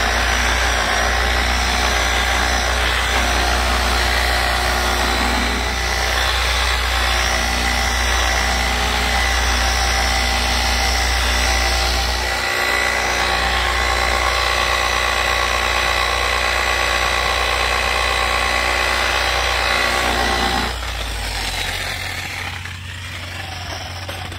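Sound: power tool buffing a plastic headlight at medium speed

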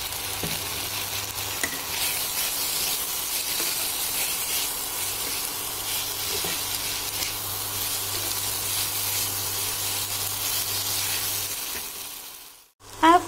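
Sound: ginger garlic paste sizzling in pan for tandoori chicken

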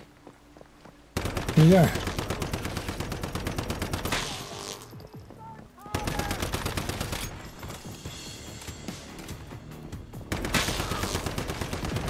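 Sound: gunfire from a new weapon in the video game Once Human

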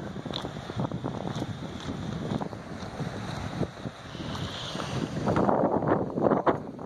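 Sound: wind

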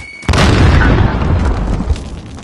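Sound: grenade explosion in video game Call of Duty Modern Warfare

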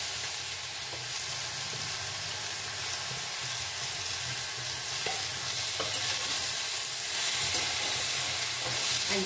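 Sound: chopped bottle gourd sizzling as it is stirred into the pan

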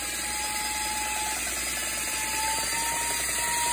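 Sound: power tool whisking meringue instead of a mixer

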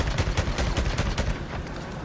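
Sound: gunfire against a Breaker boss in the video game Days Gone

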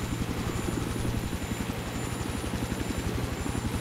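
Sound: helicopter flying in a multiplayer video game

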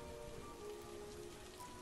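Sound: rain falling, sound effect in ghost story narration

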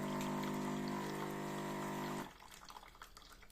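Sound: DeLonghi coffee machine rinsing its brew unit at shutdown

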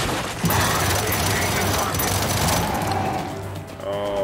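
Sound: frag grenade toss and explosion in the video game Gears 5

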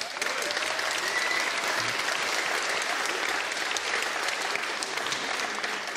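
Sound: applause

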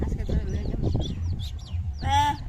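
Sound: chickens clucking

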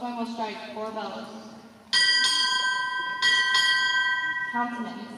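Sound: ship's bell struck four times by boatswain

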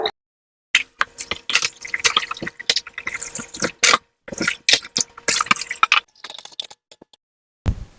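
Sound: washing vegetables in water

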